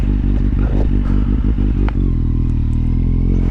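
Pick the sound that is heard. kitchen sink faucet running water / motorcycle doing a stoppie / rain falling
motorcycle doing a stoppie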